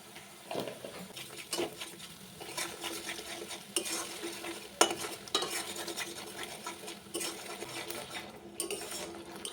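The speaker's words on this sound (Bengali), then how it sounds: "মশলাটা কিন্তু খুব ভালোভাবে কষাতে হবে" Spices with turmeric and salt being stirred and sautéed in a pan for a pomfret fish kalia, with fairly quiet clattering and scraping of a metal spoon against the pan and light sizzling in between.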